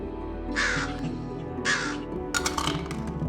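A crow gives three harsh caws, two spaced apart and then a rougher, broken call, heard clearly over a steady low background hum.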